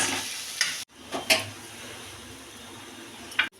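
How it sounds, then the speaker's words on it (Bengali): Onion, garlic, ginger and green chili sautéing in a pan for a katla fish curry with cauliflower and potato: a soft sizzle under a few distinct scraping stir strokes across a short stretch. "আজকে ভালো করে পেঁয়াজ রসুন আদা কাঁচা লঙ্কা এগুলোকে ভালো করে কষিয়ে নিচ্ছি"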